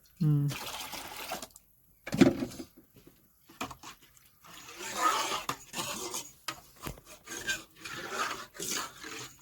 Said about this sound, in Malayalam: സാമ്പാറിന് ആവശ്യമായുള്ള വെള്ളം ഒഴിക്കണം